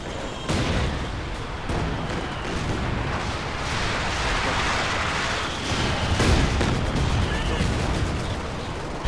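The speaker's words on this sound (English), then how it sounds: "Coordinated direct and indirect fire is ready to hit the target location." Artillery and gunfire fill a Company of Heroes 2 4v4 tournament battle: dense, crackling bursts of shots and booming impacts stay steady and loud throughout, with a few sharper shots standing out.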